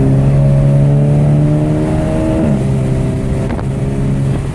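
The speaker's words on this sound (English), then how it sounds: "Did you hear the diverter valve kind of skipping?" A VW GTI MkV with an APR Stage K04 turbo pulls hard under acceleration, its engine note rising steadily with a brief stutter midway as the diverter valve skips, loud and close throughout.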